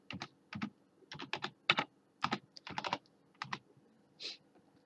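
Someone types on a computer keyboard while building an online survey in Office 365, producing close, crisp key clacks in irregular quick bursts with short pauses between them. No one speaks.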